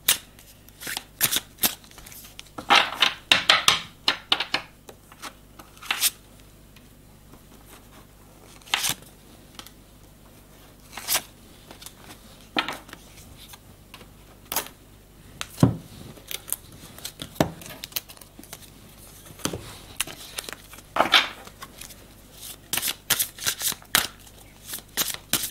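Long tarot cards are shuffled by hand, making repeated crisp riffles and soft slapping bursts in an irregular rhythm over about twenty-five seconds, heard close and clear.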